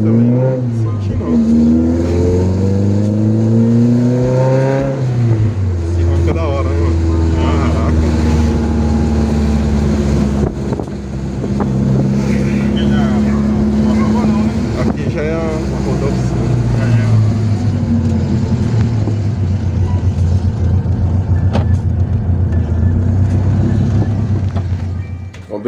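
Engine of a blue VW Fusca (Beetle) during a disc-brake test drive, a steady loud drone that rises and falls in pitch as the car accelerates and slows, continuous throughout with no voices.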